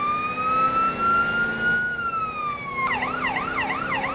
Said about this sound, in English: let's take a listen to the new sirens.